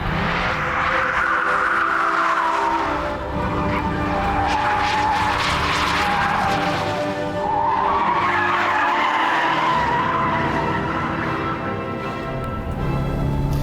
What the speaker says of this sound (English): thanks to some engine tweaks and a great sounding new exhaust system